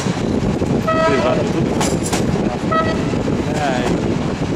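A train passes on the railway with a continuous loud rumble and clatter, short horn-like tones sounding several times, and people talking over it.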